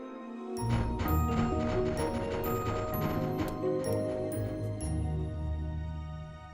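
Tiny robot footsteps in a Transformers: Rescue Bots cartoon come as a busy run of mechanical clicks, ratcheting and metallic ticks over a steady whirring drone, close and continuous.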